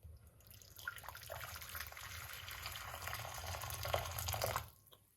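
Hot water pours steadily for several seconds, a soft continuous splashing that swells slightly before stopping.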